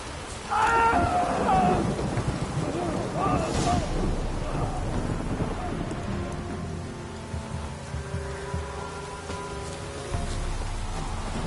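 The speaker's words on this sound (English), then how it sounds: "Looks like rain." Rain patters steadily while low thunder rumbles in the video game The Witcher 3, with brief voices and tonal sounds early on, then the storm continues alone at moderate volume.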